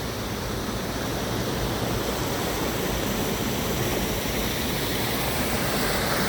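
Water pours down a mountain waterfall in Lumshory, Ukraine, in a steady, dense roar of rushing noise that stays constant from start to finish.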